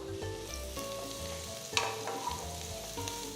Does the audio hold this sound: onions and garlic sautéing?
yes